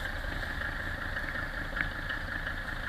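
A cold 1977 Mercedes 300D non-turbo diesel idles steadily, a faint, even engine hum with a constant mid-pitched tone and no talk.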